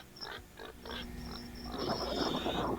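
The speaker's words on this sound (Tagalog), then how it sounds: "Ay, si baboy." A pig grunts in a few short, rough bursts close by, over a busy background of rustling and other noise that swells toward the end.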